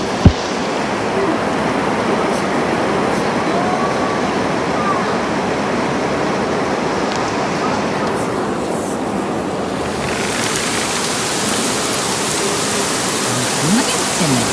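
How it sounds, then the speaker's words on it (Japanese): Sudden heavy rain pours down outside a small apartment, a dense, loud and constant roar of downpour that drowns out indoor sound throughout. "もうなんだよこの雨は本当に。"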